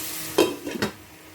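A few scraping strokes as beef, potatoes and carrots are stirred in a pan, two distinct scrapes over a low sizzle, close and fairly quiet.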